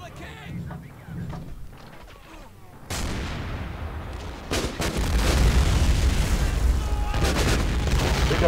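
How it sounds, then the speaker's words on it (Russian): Heavy explosions and artillery-style bursts from the Men of War: Assault Squad 2 Cold War mod, starting with a sudden loud blast and then a dense, continuing roar of detonations and gunfire that grows louder. "Это воздушный подрыв, что ли, там у него?"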